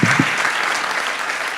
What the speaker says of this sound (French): Je vous propose d'applaudir les invités de ce soir